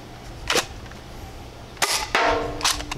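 Heatwave Ice Phoenix foam dart blaster firing, several sharp close pops with brief mechanical clatter, spaced unevenly over a few seconds, heard alone with no talking.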